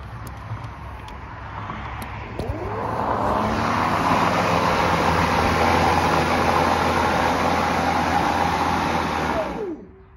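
A Hart 40V battery push mower powered by a Ryobi 40V battery spins up to a steady, loud electric motor whir and blade rush, holds for several seconds, then winds down to a stop.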